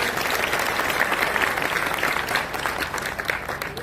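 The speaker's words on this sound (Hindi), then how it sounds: "तो ताली बजा करके इनका स्वागत करिए।" Crowd at an outdoor political rally clapping loudly to welcome people on stage, a dense, continuous burst of applause lasting a few seconds without speech.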